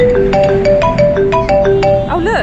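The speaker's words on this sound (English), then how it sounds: "Whoops, I think that's my phone." A mobile phone ringtone plays close by as a repeating electronic melody of bright beeping tones in steady phrases, with a short exclamation spoken over it near the end, aboard a London bus.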